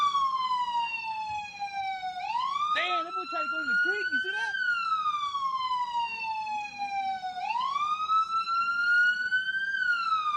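A police siren wails loudly nearby during a police chase, its pitch sweeping up and down in long cycles, while someone talks briefly over it.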